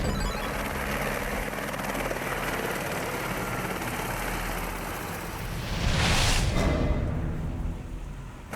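A cartoon helicopter whirs with a steady rotor drone and rushing wind throughout, swelling into a louder, brighter gust for a moment near the end before settling again, with no talk over it.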